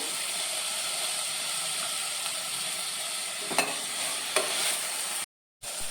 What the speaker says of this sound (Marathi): आता मी हितून मिक्स करूया